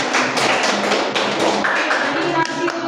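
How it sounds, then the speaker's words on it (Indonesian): Audience claps during a classroom peer-teaching session, with sharp scattered hand claps and thuds forming an irregular burst, with faint voices underneath. "Oke, mari kita berikan tepuk tangan publik."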